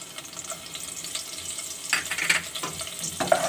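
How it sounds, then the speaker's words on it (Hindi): Chopped garlic and mustard seeds fry lightly in hot oil for an aloo dahi masala, a soft, faint sizzle and crackle that swells with a few brighter pops and stirring noises toward the end. "इन दोनों चीज़ों को हल्का सा हम फ्राई करेंगे ताकि अच्छी से खुशबू आ जाए लहसुन की और राई की"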